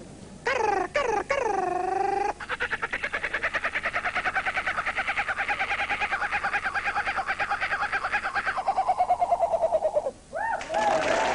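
A man mimics a kookaburra with his voice, rising whoops that break into a long, loud, rapid cackling laugh, close and alone, then trail off with a few final hoots.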